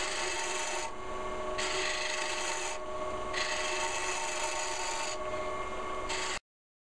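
Elm is turned on a wood lathe with gentle cuts, giving a steady close rasping scrape. The scrape swells and fades in regular passes as the tool moves across the spinning wood, with no talking.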